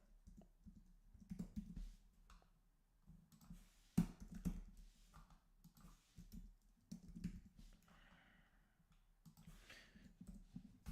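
Slow, irregular typing on a computer keyboard, with scattered key clicks and taps at close range in a quiet room, no talking.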